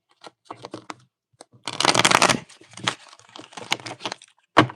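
Tarot cards being shuffled, with scattered soft flicks and a dense riffling burst in the middle, all close and fairly quiet.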